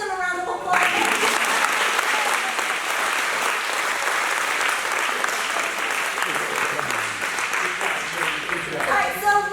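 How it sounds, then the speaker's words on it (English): Students applaud steadily at a back-to-school event, a dense, sustained wash of clapping that holds for most of the stretch, with some voices cheering over it at the start and end. "Give them a round of applause."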